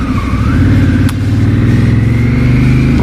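A Honda CRF 1000 Africa Twin motorcycle slowing under braking, its loud close engine note droning steadily with a falling pitch and a sharp click partway through.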